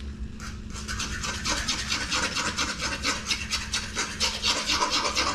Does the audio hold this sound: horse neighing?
no